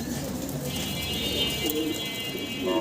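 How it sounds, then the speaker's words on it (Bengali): At a pigeon market, pigeons coo softly and continuously against a busy background murmur. No one speaks. "সুন্দর সুন্দর কবুতরই আছে এখানে"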